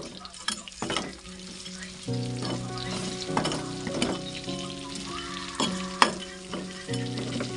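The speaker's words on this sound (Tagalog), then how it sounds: "Okay, magpiprito na tayo." Chopped garlic frying in a clay pot of leftover oil from frying chicken thighs, stirred as it cooks, with a steady crackling sizzle and scraping stirs throughout.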